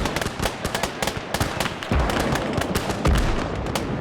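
Artillery barrage in a WWI-style video game battle at the Isonzo, Italian Alpini against Hungarian troops, a dense, continuous crackle of gunfire and booms with heavier thuds landing at intervals.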